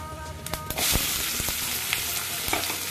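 Onions hit hot oil with fennel seeds in a pan for crab masala, bursting into a loud, close sizzle with sharp crackles and spoon scrapes that keep going steadily.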